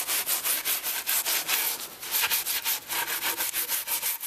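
Scouring ball scrubbing old 1930s varnish and stripper off wet wood, brisk rhythmic back-and-forth rubbing strokes, about five per second, close and loud, with no talking.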